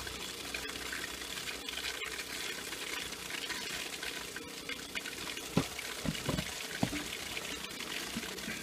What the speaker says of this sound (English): And now if I go run some water, in the basin, and I flip the switch on